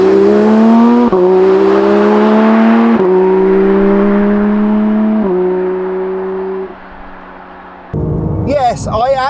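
A Porsche 911 GT3 engine revving and accelerating hard through several gear changes, its loud climbing tone dropping back briefly at each shift before a rougher burst near the end.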